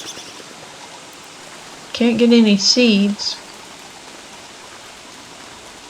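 Steady rain falls in the game Don't Starve, a constant soft hiss running through the whole stretch, with someone speaking briefly over it partway through.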